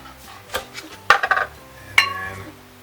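A quarter-cup measuring cup scoops one-minute oats, giving a few light clinks and scrapes of metal against the container, spaced apart and close by.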